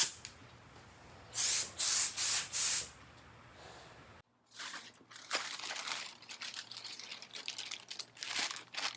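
Spray paint hissing onto a DeLorean time machine replica display, several short loud bursts followed by quieter crinkling and handling sounds nearby.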